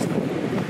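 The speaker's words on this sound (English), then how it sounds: "It's too windy." Strong wind gusting across the microphone outdoors in Glasgow, a loud continuous rushing roar for a brief moment.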